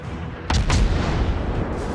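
A naval gun salvo in the World of Warships video game, with a destroyer being detonated: two heavy booming shots close together over a constant low battle rumble.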